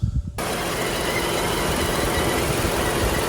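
A 2016 Ford Explorer with a 3.5 V6 and a failed oil pressure switch starts with a short crank, then settles into a steady, even idle that stays close and constant.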